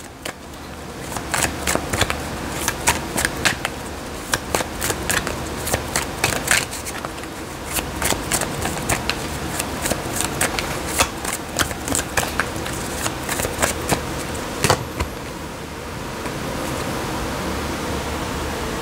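Cards being shuffled repeatedly, a rapid series of crisp riffling bursts close up over a steady hiss, tapering into smooth noise near the end.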